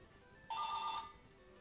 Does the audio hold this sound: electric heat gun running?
no